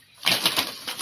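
A pigeon bursts into flight on release at a loft tournament, giving a close, loud flurry of rapid wingbeat claps that pulse several times in about a second, with no voices.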